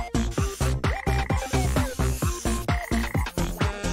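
A frog croaks in a fast, repeated rhythm, a dozen or so loud, close, resonant pulses in quick succession with no talking.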